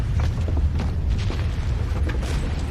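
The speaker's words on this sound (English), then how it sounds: "That is cannon." Distant cannon fire from French artillery heard from a ship at sea, a continuous low rumbling roar with faint thuds rolling underneath, no voices present.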